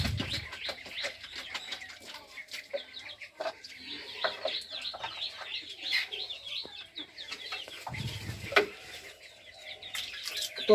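Chickens on a poultry farm fill the air with constant clucking and chirping, many birds at close range with overlapping calls and a few louder squawks.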